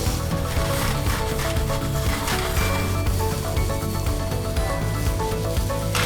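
Chicken satay pieces sizzle loudly in a hot pan while being moved around, a constant dense frying hiss with occasional scraping and rubbing of the pieces against the pan.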